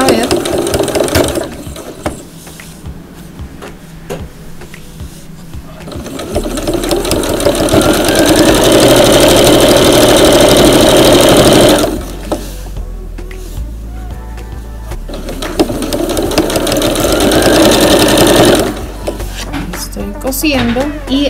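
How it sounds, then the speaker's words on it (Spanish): A sewing machine stitching fabric binding, its steady mechanical whir running in long stretches separated by pauses, with someone talking over parts of it. "Quito el alfiler para suavizar un poco, porque si no, no me deja. Pone muy rígido y ahí arranco a coser."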